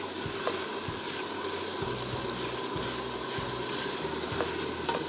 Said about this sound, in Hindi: इसको मैं थोड़ा सा भून रही हूँ